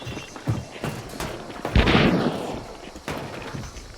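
Gunfire in Hunt: Showdown, a few sharp shots followed by one heavy booming blast and its rumbling decay, loud and close with quieter reports around it.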